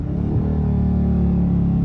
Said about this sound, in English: Just listen to those downshifts.